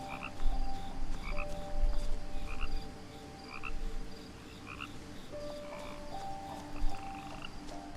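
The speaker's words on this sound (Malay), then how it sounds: "Dia bunyi katak." Frogs croak in the video game What Remains of Edith Finch, short repeated pulsing calls from several animals at a moderate distance, layered over a steady ambient drone with no talking.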